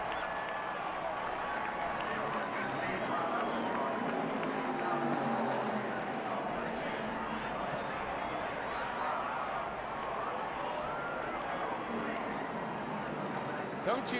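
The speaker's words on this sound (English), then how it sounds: "Standing ovation from the crowd." The crowd at the 2009 Talladega NASCAR Aaron's 499 gives a standing ovation, a broad, sustained roar of cheering and applause that carries on without a break, with faint commentary beneath it.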